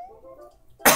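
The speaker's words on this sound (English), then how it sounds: "Damn cough." A single short, loud cough bursts out at the very end of a brief quiet stretch with faint tonal background noise.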